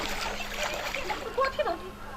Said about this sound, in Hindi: अही पोखरी में हम नहा लेती है